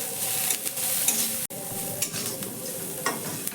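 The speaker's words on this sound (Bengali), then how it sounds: "এবার এখানে আমি দিয়ে দিচ্ছি সামান্য একটু কুচনো ক্যাপসিকাম দিয়েও 2-4 বার একটু নাড়াচাড়া করে নেব" Finely chopped capsicum sizzles in a pan over a medium gas flame as it is stirred, giving a continuous bright hiss with scraping stir strokes and a brief pause midway.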